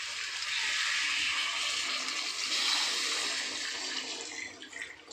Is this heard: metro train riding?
no